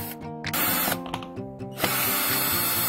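A power tool whirs in close, short bursts, unscrewing the Phillips screws from the air cleaner cover of a Victoria Nicky 125 scooter, with pauses between runs and a steady mechanical hum after.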